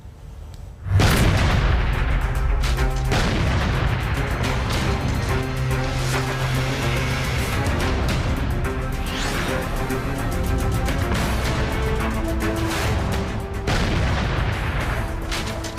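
A sudden loud blast erupts, then heavy rumbling and roaring continue without a break to the end.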